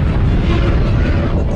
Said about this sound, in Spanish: Una explosión de supernova es increíblemente potente.